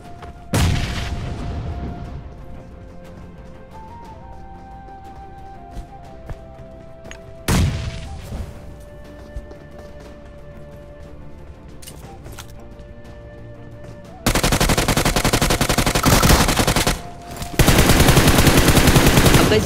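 Game gunfire in a Free Fire battle: a few sharp isolated shots over a quiet in-game background, then sustained loud automatic bursts near the end.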